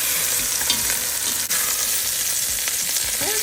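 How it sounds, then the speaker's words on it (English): Meat sears in a hot pan with a loud, dense, continuous sizzle heard up close, a brief dip midway and occasional faint clinks, without any talking. "Try not to move them and let them sear for about a minute or two each side"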